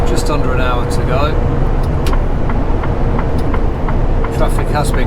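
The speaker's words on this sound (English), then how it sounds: "Traffic has been quite busy" Steady, loud road noise rumbles inside a lorry cab on a busy road near Colchester services, with a dense engine and tyre drone throughout and a person talking over it.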